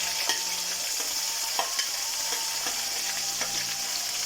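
About 50 grams of ginger and twenty green chilies fry in a pan, making a close, steady sizzle with scattered crackles and light scraping clicks from stirring, and no voices.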